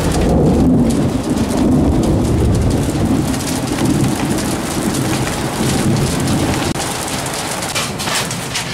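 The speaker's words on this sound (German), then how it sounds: "jetzt hagelt." A hailstorm with thunder over Lake Balaton at Balatonalmádi, a loud, dense, steady roar of pelting ice and rain on surfaces with low thunder rumbling underneath, continuous and close for the whole stretch.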